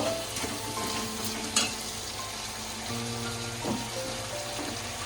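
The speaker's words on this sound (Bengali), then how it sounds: "টমেটো বাটা দিয়ে একটু কষিয়ে আমি গুঁড়ো মশলাগুলো সব দিয়ে দেবো।" Tomato paste and ground spices fry in a pan with a moderate sizzle, broken by a few soft scrapes and clinks of a stirring spoon, all fairly close and without speech.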